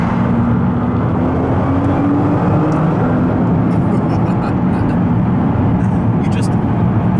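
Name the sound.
supercar engine accelerating hard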